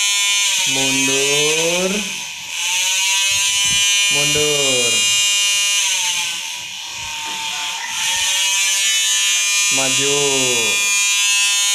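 A battery toy chainsaw runs with a steady, loud high-pitched electric buzz throughout, dipping briefly a couple of times, while a voice talks over it.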